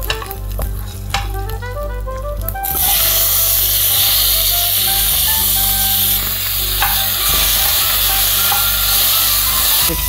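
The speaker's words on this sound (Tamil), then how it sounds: "ஒரு நாலஞ்சு பூண்டு போட்டு வதக்கிக்கிறேன் தக்காளி கொடுத்து" Four or five garlic cloves and tomato saute in a pan for garlic kuzhambu, giving a loud, steady sizzle with scraping stirring clatters throughout, close and without talk.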